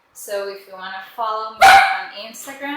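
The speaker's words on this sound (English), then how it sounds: "She barks at everyone that goes in front of the house," A dog barks at people passing in front of a house, giving several short barks under and between a woman's speech, with one louder, sharper bark near the end.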